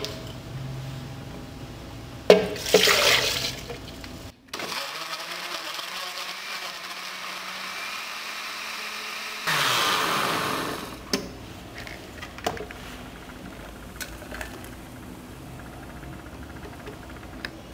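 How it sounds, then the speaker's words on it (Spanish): A blender whirs in two short bursts while blending birdseed milk with squash, separated by a quieter low hum and a stretch of near silence, with scattered small clicks afterward. "Ya tenemos aquí la leche de alpiste. La vamos a licuar con la calabaza."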